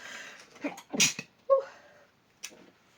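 A single sharp sneeze bursts out near the midpoint, preceded by a short breathy intake and followed by a brief vocal sound and a faint rustle.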